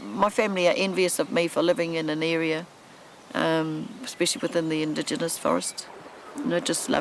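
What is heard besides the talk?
No distinct noise like a dog, phone or traffic.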